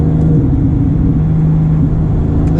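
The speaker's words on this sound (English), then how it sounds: "Let's do a downshift here." A Porsche 997.2 GT3 RS engine drones loud and close from inside the cabin during a downshift, a steady rumbling tone with a brief dip and rise in pitch, no talk over it.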